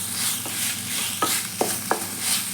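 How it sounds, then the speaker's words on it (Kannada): Chicken frying in a pan with salt, a continuous close sizzle broken by a few sharp spatula scrapes and taps against the pan. "ಉಪ್ಪು ಚೆನ್ನಾಗಿ ಹಿಡಿದು ನೀಟಾಗಿ ಫ್ರೈ ಆಗಬೇಕು."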